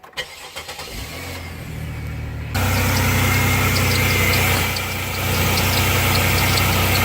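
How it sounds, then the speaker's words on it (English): An Impala's engine cranks briefly, then catches and settles into a steady, loud idle that runs on close by with a slight dip in level partway through, no voices present. "I'm about to start the car"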